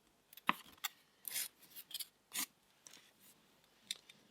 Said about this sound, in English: I'm going to take the file and create little demarcations quite randomly